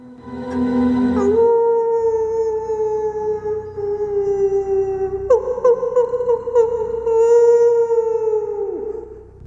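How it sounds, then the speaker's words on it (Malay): A dog lets out two long, loud howls close by, each wavering note sliding slightly before the second one tails off sharply, with no talking over it. "saya terdengar tau, macam ada bunyi gonggongan anjing tau"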